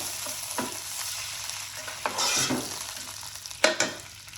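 Ingredients fry in oil in a pot for a meatless biryani, with a soft continuous sizzle. A spoon scrapes and stirs in a few distinct clinks and swishes, close by, with no talking.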